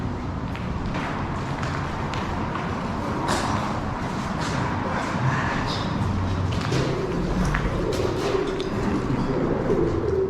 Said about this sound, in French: Il y a beaucoup de pigeons.